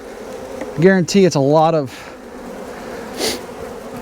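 Honey bees hum in an open apiary hive box as a steady buzzing bed, while a person talks briefly close by over it.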